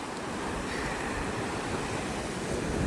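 Sea waves wash on a Chennai beach as a continuous, even roar of surf, with wind buffeting the microphone.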